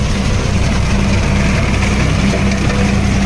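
Swaraj 855 tractor driving a Shrub Master slasher cutter through brush, a steady loud low engine drone with mechanical cutting rumble, continuous and close throughout, no voices.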